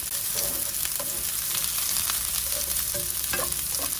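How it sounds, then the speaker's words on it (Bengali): Chopped onion and garlic sizzle hard in a pan for a green-mango lentil dal, a dense continuous hiss broken by repeated sharp scrapes and knocks of stirring, with no talking. "মধ্যে এখন আমি দিয়ে দিচ্ছি পেঁয়াজ কুচি, রসুন কেটে করে রেখেছিলাম সেটা"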